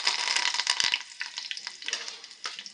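Curry leaves sizzling in hot oil in a pan, a bright crackling hiss with scattered pops, steady and close, no voices.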